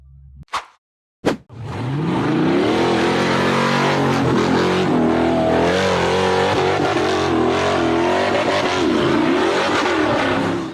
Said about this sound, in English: The orange buggy accelerated hard up the rough dirt hill in the forest